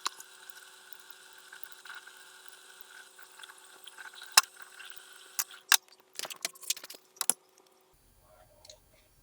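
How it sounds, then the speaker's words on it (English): Dirty bicycle jockey wheels are scrubbed clean with a run of brisk, scratchy brushing and clicking strokes that grow busier, then stop. "we really need to give them a good scrub down."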